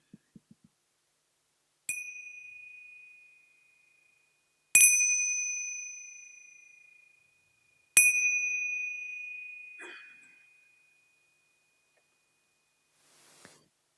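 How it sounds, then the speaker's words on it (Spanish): Three resonant meditation bell strikes, evenly spaced and each left to ring out in a long, fading shimmer, after a few soft taps in an otherwise quiet room. "allow the bells, the sound of the bells, to come in at the ears and resonate in the body"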